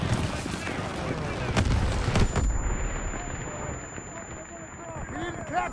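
Call of Duty WWII campaign battle with dense, loud gunfire and booming artillery blasts in rapid bursts, mixed with shouting voices and a high ringing tone after a close explosion.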